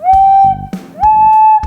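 A soft, breathy recorder tone wavering in pitch, two sustained notes with a brief airy break between them, close and fairly loud.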